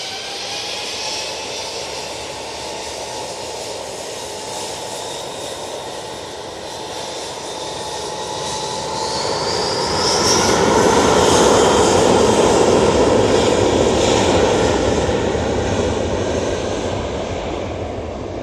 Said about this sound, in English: the Singapore A350 is now in the taxi. See it coming towards us